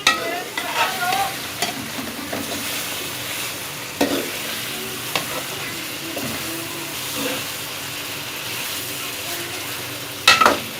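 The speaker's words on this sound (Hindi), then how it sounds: "अब हम इसमें चिकन ऐड करेंगे और इसको 10 मिनट तक इसी मसाले में अच्छी तरह से फ्राई करेंगे।" Chicken stir-fried in masala in a pan, a steady sizzle with scraping and stirring clatter throughout, close and fairly loud, with sharper clinks of a spoon against the pan near the end.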